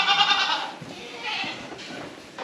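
Goats bleating on a farm where a mother goat is near her young kids, with a couple of nasal, wavering calls that rise and fall, fairly close and loud, separated by brief quieter gaps.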